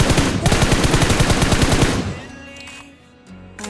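Rapid automatic gunfire in a solo-versus-duo battle royale shooter game, a loud sustained burst of machine-gun spray lasting about two seconds before cutting off into quieter game ambience and a few distant shots.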